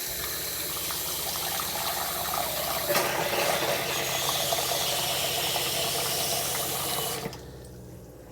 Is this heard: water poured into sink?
yes